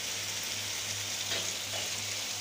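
Pabda fish bhuna sizzles steadily in a pan as the masala is stirred, a continuous close hiss of frying oil with faint scraping movements, no voices.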